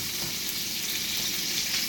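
Salmon cooking in a pan: a steady, bright sizzle and frying hiss, even and fairly close, with no talk.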